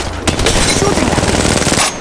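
Sustained loud automatic gunfire rattles nonstop in Apex Legends Mobile, a close rapid burst lasting well over a second and a half before cutting off.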